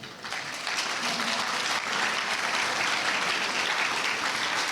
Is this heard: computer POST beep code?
no